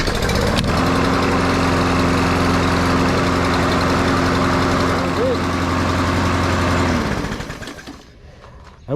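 A lawn mower engine with a freshly cleaned carburetor runs close by at a steady, loud idle for about seven seconds, then shuts down and fades to quiet.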